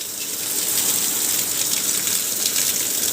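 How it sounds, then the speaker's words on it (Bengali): Heavy monsoon downpour in Rajshahi, a dense, steady hiss of rain pouring onto surfaces, constant and close with no voices or pauses. "মুষলধারে বৃষ্টি চলছে।"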